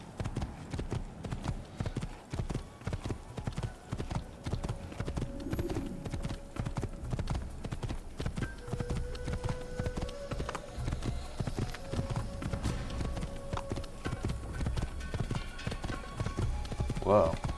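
Steady clip-clop of horse hooves at a trotting rhythm in the video game Assassin's Creed, continuous throughout, with occasional game tones and a voice talking over it.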